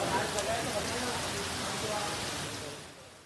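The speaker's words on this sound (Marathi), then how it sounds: "अमरावती शहरातही मुसळधार पावसानं हजेरी लावली." Heavy monsoon rain pours down over the city of Amravati, a dense, steady wash of noise at moderate level that eases slightly toward the end, with no voices.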